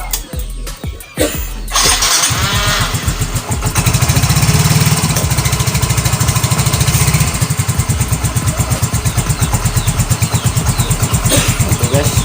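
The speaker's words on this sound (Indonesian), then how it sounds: "kita akan hidupkan motornya" A Yamaha Soul GT motorcycle starts after a short burst of cranking and clatter, then settles into a loud, close, steady idle with a rapid even pulse.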